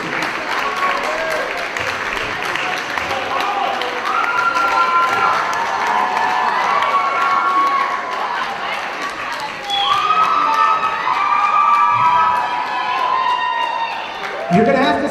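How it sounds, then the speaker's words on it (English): Crowd applause and cheering for cosplay contestants on stage at an anime convention, with sustained clapping, whoops and shouts that swell in two waves, mixed with voices talking and calling out over the noise. "give them a huge round of applause for our first round of contestants"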